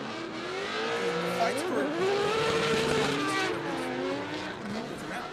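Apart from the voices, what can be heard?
rotary-powered Mazda Miata drift car racing at Irwindale Speedway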